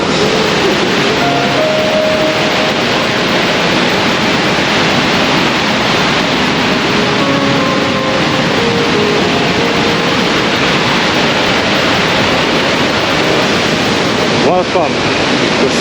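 The Sava waterfall in Slovenia roars steadily nearby, a loud, broad rushing wash of falling water without a break.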